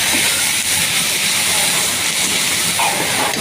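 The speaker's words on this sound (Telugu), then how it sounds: "ఇదిగోండి చూసారా, బాగా వేగాలి." Liver frying with ginger paste in a pan, a loud, steady, close sizzle and hiss throughout, with a voice speaking over it.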